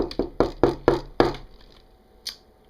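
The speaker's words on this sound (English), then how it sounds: "Who is this knocking upon my phone now?" A knocking sound effect: a quick run of six sharp, evenly spaced knocks, followed by a short silence and one lighter final tap, all crisp and close.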